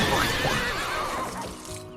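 A horse gives a loud, forceful sneeze with a whinnying, breathy burst close by, continuing as a rough snorting noise for about two seconds with no talk.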